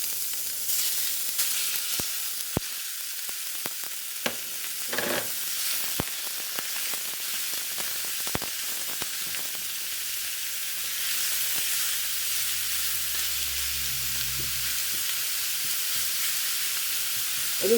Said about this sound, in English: oil's nice and warm. I'm going to add the beef.